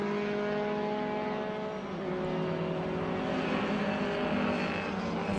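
A vintage MGA race car at Watkins Glen passes another car in a vintage SVRA race, its engine a steady loud buzzing drone with slight pitch shifts as the cars run close together.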